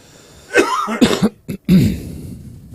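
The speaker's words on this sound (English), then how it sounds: "You're still coughing a little bit too" A few sharp coughs close by, short harsh bursts spread over a couple of seconds with brief gaps between them.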